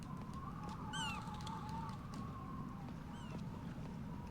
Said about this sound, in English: There are birds here that I just can't interact with.